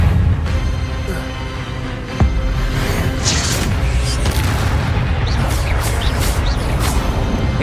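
A spell cast in the Hogwarts Legacy video game, heard as a sharp magical burst followed by booming impacts and layered combat effects over a dense, loud game soundscape; no talking is heard.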